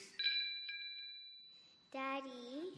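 A small bell gives a few bright, ringing dings that fade out, followed by a voice speaking in a quiet room.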